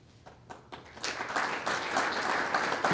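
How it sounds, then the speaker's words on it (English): Scattered claps at a university lecture hall build into fuller audience applause for the person introducing the lecturer, rising after the first second and sustaining at moderate level to the end. "It's nice that the introducer of the speaker gets applause."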